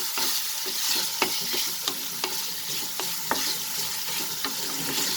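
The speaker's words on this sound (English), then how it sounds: "We'll saute the onions till it becomes slightly translucent" Onions sauté in oil with a constant close sizzle, and a spoon scrapes and taps against the pan at irregular moments with no voices.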